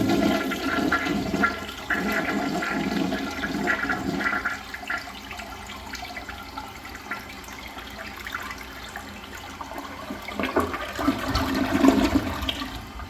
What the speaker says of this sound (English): Let's take a look at a flush.